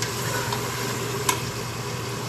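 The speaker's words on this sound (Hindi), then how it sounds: "लहसुन अदरक में मैंने जो है ना ये गोश्त भून रही हूँ" Meat sizzles in oil with garlic and ginger: a steady, even frying hiss with a few faint clicks and stirring touches, and no voices.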